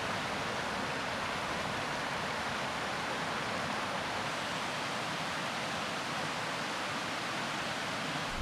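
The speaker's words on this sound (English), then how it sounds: "Right now, I'm just going to enjoy this beautiful waterfall" Murray Creek Falls, a waterfall on the Ozark trail, pours in a steady, dense rushing roar that stays loud and unbroken from start to finish, with no voices.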